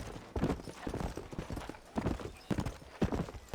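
Steady clip-clop of a painted quarter horse's hooves in Red Dead Redemption, a quick rhythmic trot of close, moderately loud hoofbeats.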